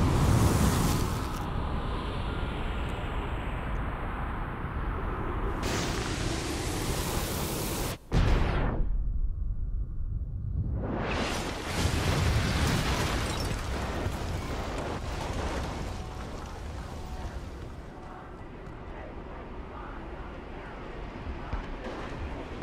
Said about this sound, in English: here's my favorite special attack, Orbital Drop, in both good and bad